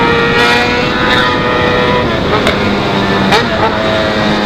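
A Yamaha XJ6 motorcycle fitted with a new 4-into-1 exhaust accelerates hard nearby, its loud engine roar filling the scene, with voices faintly mixed in.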